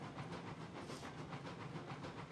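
Long 20-car steam train in the game RAILROADS Online accelerating, with a rhythmic chuffing hiss pulsing steadily at a quiet, distant level.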